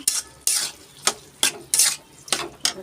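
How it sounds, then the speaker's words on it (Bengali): Spicy dried fish curry stirred in a pan, about six distinct scraping strokes in a quick irregular rhythm, close and fairly loud over a faint sizzle. "এই যে নাড়াচাড়া করে"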